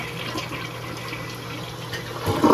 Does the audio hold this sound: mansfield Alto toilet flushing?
yes